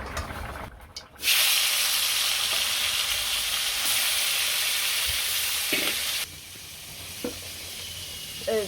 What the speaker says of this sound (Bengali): তারপরে আবার সরস্বতী মাছ ভাজবো জিরা রাঁধুনি দিয়ে দিলাম